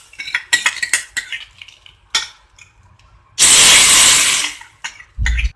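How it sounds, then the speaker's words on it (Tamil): Ghee tempering with popped mustard seeds and curry leaves, poured into Mysore rasam. Utensil clinks and stirring come first, then a loud sizzling hiss that lasts a couple of seconds, followed by a final clatter. "இப்ப இந்த தாளிப்பை வந்துட்டு இந்த ரசத்துல கொட்டிடுங்க."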